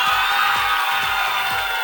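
Studio audience at the Hojamalo game show breaks into continuous clapping and cheering, a loud, dense and steady burst of applause throughout.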